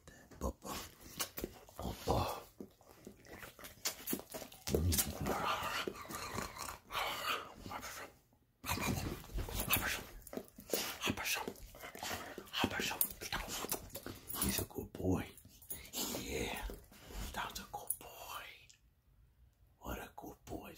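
A dog, a male called a good boy, whimpers and pants in short bursts, close and fairly loud, while a person talks softly and whispers over much of it.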